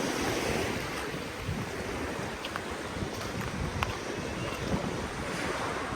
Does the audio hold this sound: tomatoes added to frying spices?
no